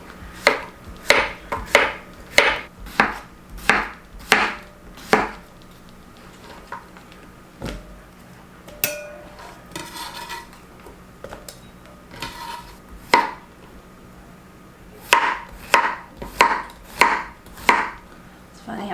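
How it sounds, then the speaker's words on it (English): A knife cuts zucchini and small squash into smaller pieces on a board, giving a run of crisp, evenly spaced chops up close. A quieter stretch of rustling and handling follows before the steady chopping resumes. "if you want to take it out, then you can cut them into smaller pieces to slice"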